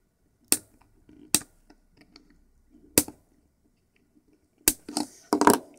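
Flush cutters snip the component leads on a 555 roulette circuit board kit in a handful of sharp, isolated clicks spaced a second or more apart, with faint handling noises between them.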